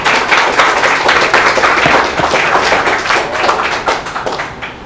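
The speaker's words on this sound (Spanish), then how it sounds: "aplauso para vos" Audience applause closing a talk, a loud burst of many hands clapping in quick irregular bursts, sustained through the whole stretch and thinning slightly at the end, with no voices on top.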